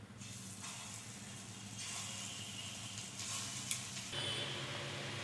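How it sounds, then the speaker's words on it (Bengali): Lentil fritters (masoor dal bora) fry in oil with a soft, steady sizzle and hiss, close by and fairly quiet, with no voices over it. "বাকিগুলো একইভাবেই ভেজে নেব।"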